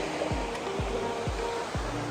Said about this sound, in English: You can actually feel the mist coming off of the waterfall.